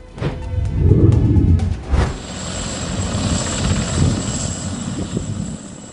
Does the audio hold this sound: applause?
no